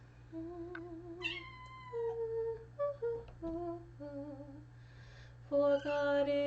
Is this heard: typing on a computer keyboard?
no